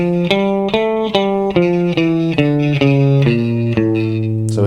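An electric guitar plays a descending A Phrygian dominant scale, one distinct picked note after another in an even rhythm, sustained and slightly overdriven.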